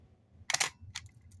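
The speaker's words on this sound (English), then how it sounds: "the first time I cocked that shutter back, and the shutter trip" A Nikon FM2N 35mm film camera shutter is cocked with a sharp mechanical clack, then fired with a crisp snap, followed by small clicks; close and alone.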